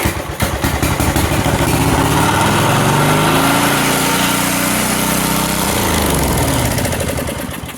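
A John Deere 110 lawn tractor with a swapped-in 8 hp engine and a faulty carburetor fires up and runs loud and close, its steady rough chug climbing and racing as the throttle runs too high, with no talking.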